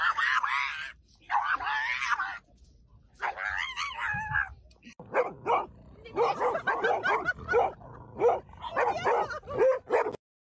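Dog on guard duty barks and howls in drawn-out, tuneful yowls as if singing, with yips and whimpers between close, loud bursts.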